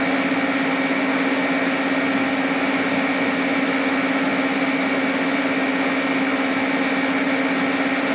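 A piece of leftover scrap metal is melted down with welding gear in an artist's studio, giving a loud, steady hiss layered over a constant electrical hum that runs unbroken throughout, with no talking.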